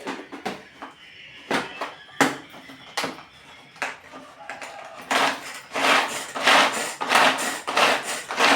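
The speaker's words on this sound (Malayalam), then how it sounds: "ഈ എടുത്തു വെച്ച ഒരു സവാളയും ഇഞ്ചിയും പച്ചമുളകും നമുക്ക് ചോപ്പ് ചെയ്തെടുക്കാം." A knife chops onion, ginger and green chilli on a board, making a steady series of close, sharp wooden taps that turn quicker and denser toward the end.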